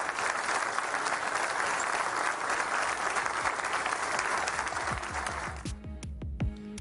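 Crowd in the stands at a political event applauding loudly and continuously, a dense roar of clapping that fades in the final second as a few lower thuds come through.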